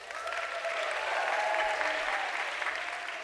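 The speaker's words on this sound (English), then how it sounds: "give them a round of applause." Audience applause for a sponsor at a fashion week finale show, an even, sustained wash of clapping from a large crowd, heard at a moderate distance and fairly quiet.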